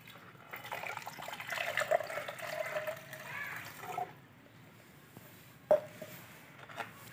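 Water runs from a tap to rinse filtered gold residue recovered from mobile phones. A faint, soft trickle and splash goes on for several seconds, drops off briefly, then comes back with a short louder splash.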